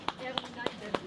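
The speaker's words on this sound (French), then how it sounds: "on applaudit l'arrivée de Paloma" Four sharp, evenly spaced hand claps ring out at an outdoor poetry fair on Place Saint-Sulpice in Paris as a poet named Paloma arrives, with murmuring voices in the background.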